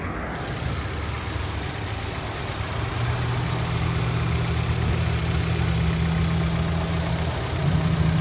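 Steady idle from the 2.0-liter four-cylinder engine of a 2011 Kia Forte EX, heard close with the hood up, a constant loud hum with a low tone rising slightly partway through.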